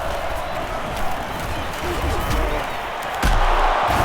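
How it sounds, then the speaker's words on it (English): A stadium crowd roars in the NCAA Football 09 video game, a steady wash of cheering that swells louder near the end, with the game's commentary voice running over it. "And this crowd is going crazy."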